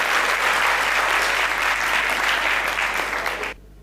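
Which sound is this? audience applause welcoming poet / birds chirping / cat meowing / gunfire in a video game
audience applause welcoming poet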